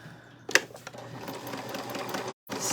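A sewing machine stitches fabric along to the next corner with a fast, steady mechanical whir and rattle after a sharp click, then cuts out briefly before starting again.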